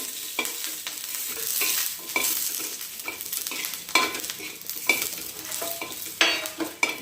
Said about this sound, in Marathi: हे चार पाच जे मिरच्या आहेत सुद्धा मी तेलावरच छान अशा भाजून घेणार आहे